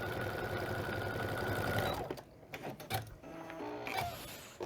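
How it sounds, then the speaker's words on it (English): A sewing machine stitches a diagonal seam across quilt pieces, first as a steady, fairly loud mechanical whir, then breaking into shorter, uneven bursts of motor and clicking mechanism with brief pauses between. "Just put your presser foot along the edge of the stitch that you just made or a little bit away from it and sew a diagonal, another diagonal line."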